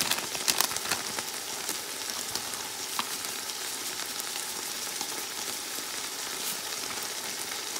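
Turkey fried rice sizzles steadily in a hot pan while curry fried rice seasoning is added, a bright continuous crackle with a few sharper clatters early on and no talking.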